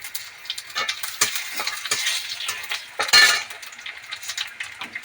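Cumin and fennel seeds dropped into hot oil for a rohu fish curry with cauliflower, giving a close, crackling sizzle broken by repeated scrapes and clinks of a metal spoon stirring in the pan.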